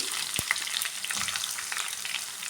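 Onion and curry leaves sauté in a pan for wheat upma, making a close, crackling sizzle broken by a few sharp stirring clicks.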